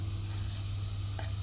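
Chopped garlic sizzles quietly in a pan with melted fat, a soft, steady crackle over a low hum, with a brief stir or scrape near the end.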